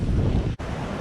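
Strong wind buffets the microphone in a low, steady roar, with one brief dropout partway through.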